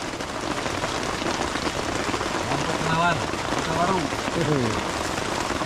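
Heavy rain pours steadily through the forest on a multi-day adventure trek, a dense continuous hiss throughout, with people talking and calling out over it.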